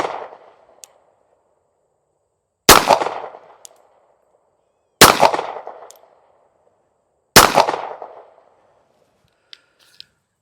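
Four sharp, loud pistol shots from an S&W Bodyguard 2.0 .380 at about seven yards, spaced a couple of seconds apart, each cracking and then ringing out in a quiet outdoor setting.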